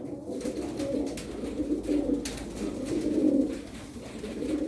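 Tumbler pigeons coo continuously and close by while feeding, a warm, throaty murmur with soft rustling in the loft.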